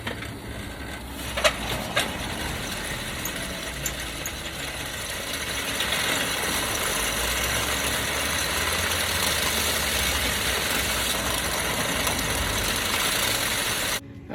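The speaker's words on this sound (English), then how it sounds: "I think it was a little unruly using the bench sander for this" A bench sander grinds down the rubber heel top lift of a Grenson monkstrap shoe, making a steady, loud motor whine and rough grinding roar that swells slightly partway through and continues without a break.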